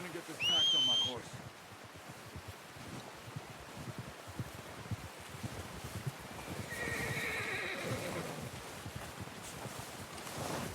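In Red Dead Redemption 2, a horse lets out a loud, close whinny at the start, followed by hooves clip-clopping steadily under wind and ambient noise.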